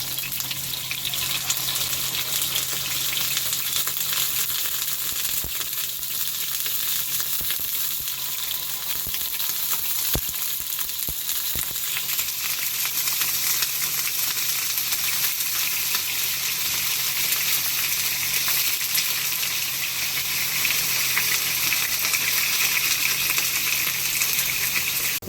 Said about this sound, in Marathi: आता मी हे पनीर फ्राय करून घेणार आहे।